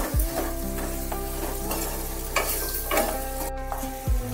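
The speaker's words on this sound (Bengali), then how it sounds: "মশলাগুলো দিয়ে ভালোভাবে একটু নাড়াচাড়া করতে হবে।" Spices, chilli flakes and vegetables for posto paneer fry in a pan while a spatula stirs them, a steady loud sizzle running throughout with a few scraping strokes and clatters on top.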